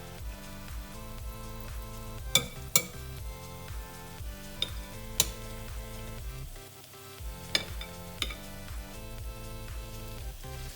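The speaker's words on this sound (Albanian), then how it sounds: "do t'i skuqim duke shikuar" Meatless veggie balls, spooned into hot oil, fry with a steady, busy sizzle and crackle that runs unbroken, with a few sharp pops standing out. No one speaks.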